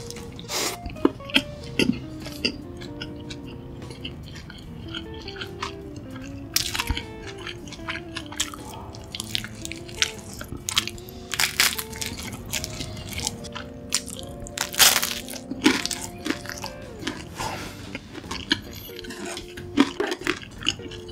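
Close crunchy bites and wet chewing of seasoned Korean fried chicken leg meat, eaten with naan. The crisp crunches repeat steadily throughout with no talking.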